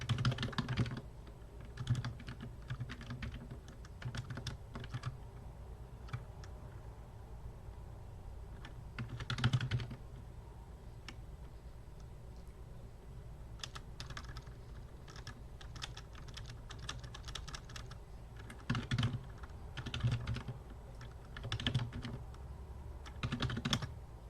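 Keys clatter on a computer keyboard in irregular bursts of quick, light taps at close range, with quieter gaps between flurries and no talking.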